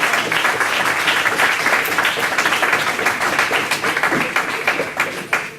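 A church congregation applauding during a sermon, a dense sustained wash of many hands clapping, loud and close, tapering slightly at the end.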